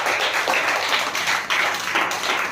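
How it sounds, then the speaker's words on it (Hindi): Schoolchildren in a classroom applaud a pupil, producing steady dense clapping from a group of many small hands that continues throughout. "इस बेटे के लिए सारे ताली बजाओ दोबारा से"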